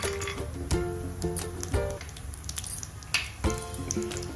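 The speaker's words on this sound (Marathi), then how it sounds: "यामध्ये थोडे ड्राय फ्रूट्स आपण शॅलो फ्राय करून घेणार आहोत। काजू, बदाम" Cashews and almonds shallow-fry in ghee in a pan, a steady close sizzle broken by clinks of the nuts and a spoon stirring against the pan.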